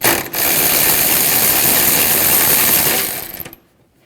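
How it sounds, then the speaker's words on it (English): A 10mm socket ratchet backs out a screw behind a cover while replacing the exhaust manifold on a 2007-2013 Mini Cooper, clicking in a loud, rapid, continuous run for about three seconds before trailing off into silence. "use a 10mm socket. Take this screw out."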